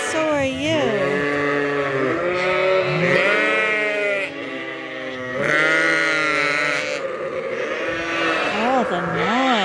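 Sheep and young lambs bleat repeatedly on a farm during lambing time, with overlapping wavering calls of varied pitch, some near and loud, continuing through the whole stretch with little pause.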